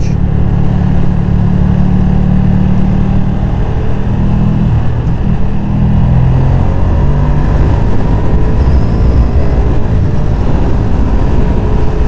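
A Ducati Streetfighter V2 motorcycle engine drones loud and close while riding, holding a steady high-revving note that shifts pitch as the throttle changes, with wind noise throughout and no talking.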